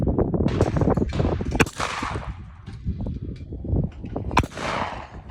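A shotgun fires at a target: two sharp, loud reports ring out a few seconds apart over a busy, rumbling outdoor background.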